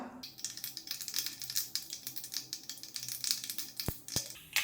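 Quick irregular crackles and pops of half a teaspoon of mustard seeds spattering in hot oil, a dense sizzling patter close by, with two sharp clicks near the end.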